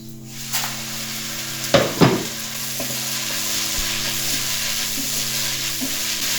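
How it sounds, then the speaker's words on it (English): Onions and mushrooms frying in a pan give a continuous sizzle, with a couple of sharp utensil knocks against the pan early on as they are stirred; no one talks. "I'm just going to give this a stir, guys"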